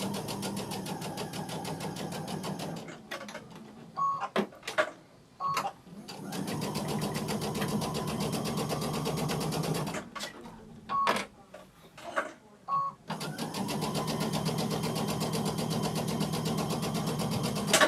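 A sewing machine stitches steadily in close bursts of rapid mechanical whirring, stopping twice for short gaps filled with clicks and handling noises, while a person talks quietly in between.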